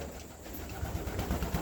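Pigeons cooing close by during hand taming and feeding, low soft throaty coos repeating in a rough rhythm over a faint background hiss.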